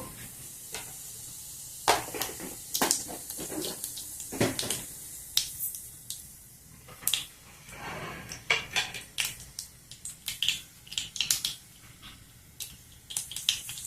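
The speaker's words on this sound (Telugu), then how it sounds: "నూనె వేడైంది ఇప్పుడు ఆవాలు కొంచెము జీలకర్ర వేసుకున్నాము" Mustard seeds and a little cumin hit hot oil in a pan, giving scattered sharp pops and crackles over a faint sizzle, with occasional clinks of a utensil against the vessel.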